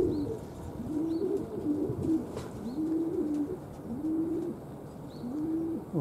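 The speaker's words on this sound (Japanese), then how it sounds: "鳩はまだ飛んでますね。" Pigeons coo in a steady repeating rhythm, close and clear, with low throaty calls every second or so over a soft outdoor background.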